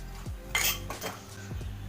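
A metal lid set onto a pot of bitter gourd curry, with a couple of close clinks and a brief ringing clatter of metal against metal, no talk.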